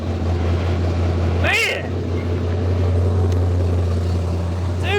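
A Dodge Dart V8 with a four-speed runs just after firing up, a loud steady low rumble throughout, with a man's brief exclamation and a couple of short sharp noises over the engine.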